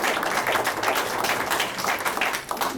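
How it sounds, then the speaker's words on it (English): Audience at a ward community meeting breaks into sustained applause, a dense, crackling wash of many hands clapping throughout, fairly loud and near with no clear speech over it. "I actually appreciate the applause"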